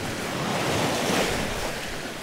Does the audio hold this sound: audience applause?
no